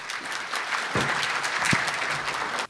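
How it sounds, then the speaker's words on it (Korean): An audience at a construction technology seminar gives sustained, even applause, a dense wash of many hands clapping that holds steady and then stops abruptly. "여러분 박수 부탁드리겠습니다"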